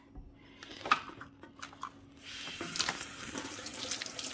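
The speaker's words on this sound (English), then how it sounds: "Just give everything a really, really good rinse down with some clean, doesn't have to be hot water, but I'm using hot water" Hot water from a tap rinsing kettle parts: a few clattering knocks of the parts against the sink come first, then the running stream grows into a steady splashing rush, close and moderately loud, without talk.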